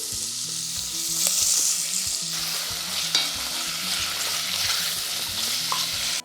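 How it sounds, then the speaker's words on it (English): Pork sausages for jambalaya sizzle loudly and steadily in a hot pan, a constant crackling hiss with occasional pops and the scrape of stirring. "So, hear that sizzle."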